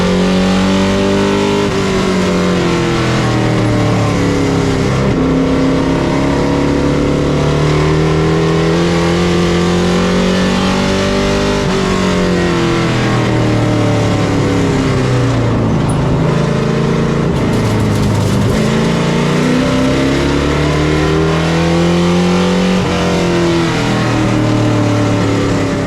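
Race cars on the oval at Florence Motor Speedway, engines roaring loudly and continuously as they accelerate and lift through the turns in repeating sweeps, with no talk audible.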